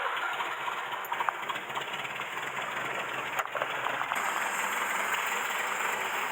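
A Mercedes W115 with a leaking exhaust idles while warming up after sitting three years, a steady even engine drone with a faint whine and occasional small ticks.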